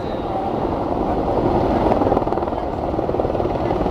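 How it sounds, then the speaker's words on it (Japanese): An AH-64D attack helicopter at a Japanese live-fire military exercise at Fuji, its steady rotor and engine drone loud and continuous throughout with a slight swell midway. "戦闘ヘリコプター AH-64D の先導により、ヘリボン部隊を戦闘に加入させ"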